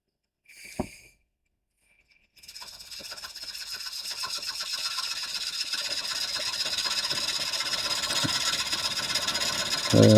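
A large wooden bowl being turned on a lathe with a gouge, a steady rasping, scraping cut that runs continuously and loud after a brief knock and pause at the start.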